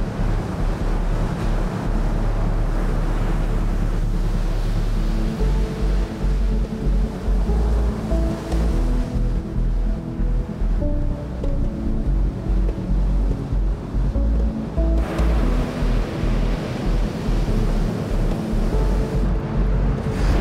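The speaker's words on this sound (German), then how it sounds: "Ich warte immer darauf, dass Wasser um das Eis rumfließt." Ocean waves wash around ice floes stranded on a black sand beach near a glacier in Iceland, a steady loud roar of surf with gusting wind across the microphone, no talk.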